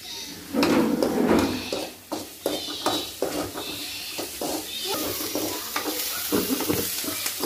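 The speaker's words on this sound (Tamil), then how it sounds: "மூணு பச்சை மிளகா, கொஞ்சம் கருவேப்பிலை. இது வந்து நல்லா வதங்கணும்." Onion, green chillies and curry leaves frying in a pan, a steady sizzle broken by repeated scraping stirs and knocks of a spoon against the vessel, close and fairly loud throughout.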